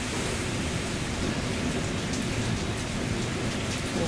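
Typhoon Faxai in Japan brings heavy, unbroken rain and wind, a dense roaring wash of downpour that stays loud and steady throughout.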